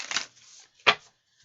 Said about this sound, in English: Okay, so I'm gonna give these a few shuffles.